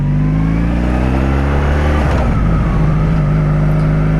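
A 1984 Honda V65 Sabre motorcycle engine accelerates, a loud continuous close drone whose pitch climbs, dips, and rises again as the rider goes through the revs.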